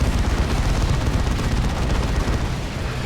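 Dense, continuous barrage of explosive blasts and gunfire from Doom Blast and Frag Assault abilities in a Dawn of War 2 battle, loud and unbroken for about three seconds with no talking.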